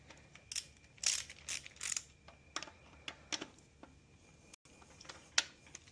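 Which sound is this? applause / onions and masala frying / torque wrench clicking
torque wrench clicking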